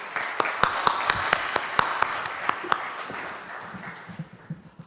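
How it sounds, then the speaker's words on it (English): A modest audience at an ethics and professional-conduct seminar applauds to welcome a speaker, with sharp individual claps standing out over a thin layer of clapping. It tapers away after about four seconds, and faint murmuring follows. "let's welcome Dheeraj with big round of applause"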